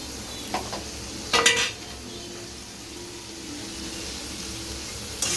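Ground spice paste sautéed in a pan, with a low steady sizzle under brief scraping stir strokes and a short clatter of utensils.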